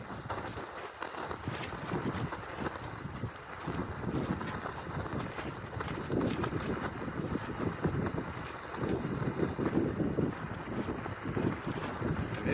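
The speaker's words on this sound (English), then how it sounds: "And it is really windy out here today" Strong outdoor wind buffets the microphone in continuous gusty rushes, loud and rumbling throughout with no voices.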